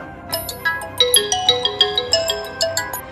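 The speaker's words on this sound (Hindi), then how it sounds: "उधर साइबर सेल को सूचना देने के बाद इंस्पेक्टर विश्वास को वहां से फ़ोन आया।" A melodic phone ringtone plays alone, a bright run of repeated electronic tones pulsing at a steady rhythm, close and clear.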